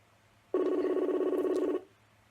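An outgoing call rings on a telephone line: a single steady electronic ring tone lasts just over a second, heard clearly over a quiet low hum.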